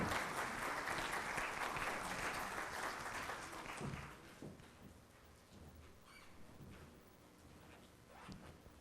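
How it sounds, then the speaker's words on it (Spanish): Applause from the audience at an expert panel on labor law, a dense clapping wash for the first four seconds that thins into scattered claps and room noise. "Que se escuche fuerte el aplauso"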